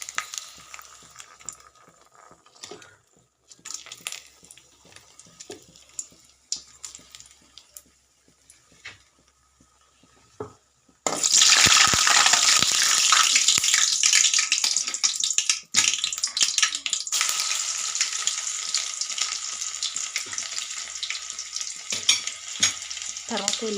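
Dried red chillies hit hot oil and burst into a loud, close sizzle after a quieter stretch of faint clinks and small spatters, then keep crackling steadily without pause.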